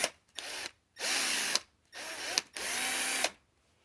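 A power impact wrench, carried in a 2008 Toyota Sienna minivan camper, whirs loudly in three bursts of about a second each, with short pauses between them and a rising wind-up at the start of each run.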